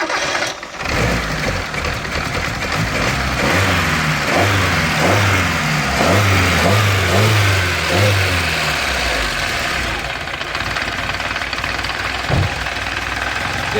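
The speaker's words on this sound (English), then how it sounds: "I should be able to start the car" A 4-cylinder car engine running on vapour fuel cranks, catches and starts, then runs with uneven revving pulses before settling into a steady idle, close and loud with no talk.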